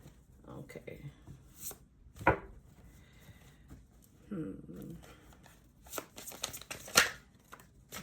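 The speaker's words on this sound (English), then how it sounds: "all of my decks are pre-shuffled to save time, but I do end up shuffling them a little bit anyway" A tarot card deck is shuffled by hand in short bursts of soft riffling and slapping, with a few sharper snaps standing out among quieter rustles, close by.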